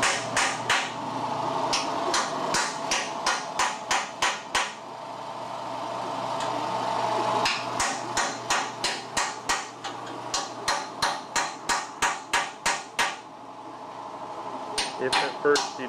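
Sharp metallic hammer blows ring out on rusty metal in quick rhythmic bursts, pausing briefly between runs, with a steady mechanical hum underneath.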